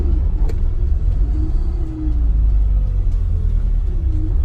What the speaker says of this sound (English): I am pushing the car to its limits a little bit, but again, it's just to show you guys the performance of a car.